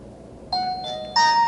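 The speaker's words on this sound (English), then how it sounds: "what I like about it a lot is the chime that you're going to hear" A Mr. Magnifier 5 handheld magnifier gives its power-on chime: two clear electronic tones, the second higher and louder, ringing over a quiet background.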